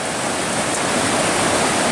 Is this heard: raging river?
yes